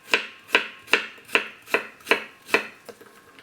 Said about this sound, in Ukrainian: Я завжди яблука нарізаю так.